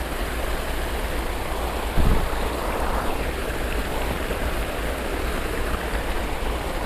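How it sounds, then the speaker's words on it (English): Clear running water of a mountain stream on a hot day in the Rocky Mountains, a steady close rushing wash with no one speaking. "the sound of the water running is making you very thirsty"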